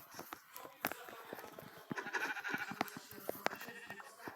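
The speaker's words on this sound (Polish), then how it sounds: "Owca, owca, owca, owca." Sheep bleating from a video game, a few short bleats mixed with clicks and light game sounds, with a voice talking over them.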